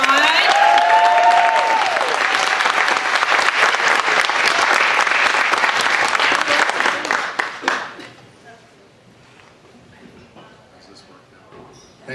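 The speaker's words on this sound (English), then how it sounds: "Let's give him a big round of applause." A comedy-night audience gives loud, dense applause with some cheering to welcome a comedian, sustained for several seconds before fading out to quiet room tone.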